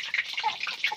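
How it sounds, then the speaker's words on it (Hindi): Water spattering into hot oil while frying sweet pua: a close, crackling sizzle of rapid pops and hissing spits, continuous and busy, with no talking. "अरे पानी छिटक रहा है रे झंझरा में।"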